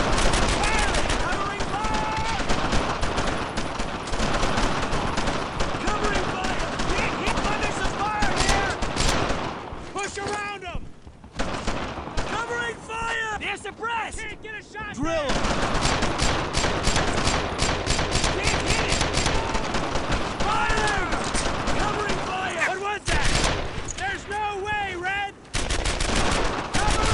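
Dense, continuous gunfire from the World War II video game Brothers in Arms, with rapid rifle and machine-gun bursts laying down covering fire almost without pause, briefly thinning out in the middle.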